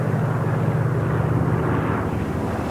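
A Spitfire fighter aircraft's piston engine roars in a steady, dense drone throughout, loud and unbroken, with no voices.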